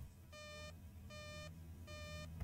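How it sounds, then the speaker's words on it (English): A motion sensor gives three evenly spaced electronic beeps, each a short bright tone, sounding faintly over a low background hum. "the thing it only beeps when the ghost is close by"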